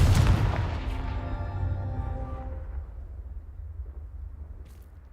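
A single loud blast opens the passage, the Confringo fire spell cast in Hogwarts Legacy, booming close by and then trailing off into a long, ringing, fading tail over about two seconds, with no voice.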